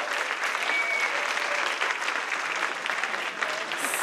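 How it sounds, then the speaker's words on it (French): A conference audience at an agile-teamwork event applauds loudly for the sponsors, a dense, steady roar of many hands clapping that fills the whole stretch without a break and with no talking. "c'est d'applaudir très très fort tous les sponsors"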